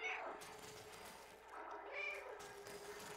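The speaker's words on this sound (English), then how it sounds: "in case you forgot, press B to meow" A cat meows twice in the video game Stray, soft and close, under faint background music and a quiet voice.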